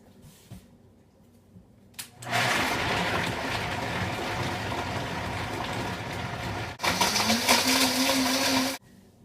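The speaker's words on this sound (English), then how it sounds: "And now I'll put it in my Vitamix blender," Vitamix blender whirring loudly as it blends almonds with sea salt for almond milk, starting after a quiet moment, running steadily, briefly dropping then surging higher before cutting off near the end.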